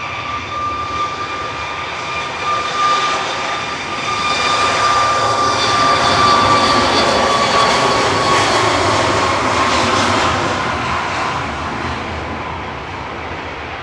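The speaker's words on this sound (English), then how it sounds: "TUI departing next to Sharm el Sheikh in Egypt" A TUI Boeing 737 Max 8 departs Manchester Airport for Sharm el Sheikh, Egypt, a loud continuous jet roar with a high whining tone building over several seconds, peaking midway, then easing off into the distance.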